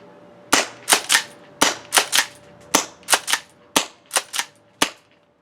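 A Jag Arms Scattergun gas-powered airsoft shotgun fires BBs in a string of about fourteen sharp, loud pops. The shots come in quick pairs and triplets separated by short pauses, with no talking over them.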